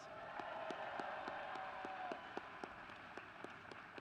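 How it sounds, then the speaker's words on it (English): Educators applaud themselves at a back-to-school night at the White House: soft, distant crowd clapping with a steady tone underneath, and a few individual claps standing out near the end. "Give yourselves a round of applause"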